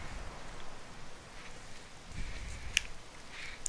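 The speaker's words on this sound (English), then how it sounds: "It's raining now." Rain falls steadily in the video game Bound, a soft continuous hiss of drops with a few sharper spatters, heard alone without talk.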